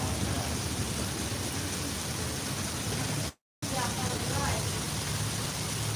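Steady broadband rain pours during a thunderstorm, heard from under a shelter, a dense constant hiss with a brief dropout midway and faint voices underneath.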